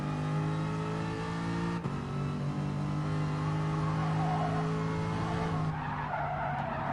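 Race car engines roar at steady high revs through a Gran Turismo Sport race, two cars side by side in a drag-race run, with a sharp brief click near two seconds and a shift in tone toward the end.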